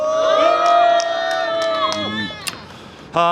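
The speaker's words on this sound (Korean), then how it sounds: "큰 박수 부탁드리겠습니다" A crowd at an outdoor press conference breaks into loud cheering and sustained shouts, the voices rising together for about two seconds before fading, with a brief renewed outburst at the end.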